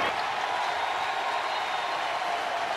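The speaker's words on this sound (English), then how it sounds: "The crowd crescendos." Steady, broad roar of a baseball stadium crowd at the Big 10 Championship game between Penn State and Nebraska, cheering continuously at a fairly even level for the whole stretch with no clear talk on top.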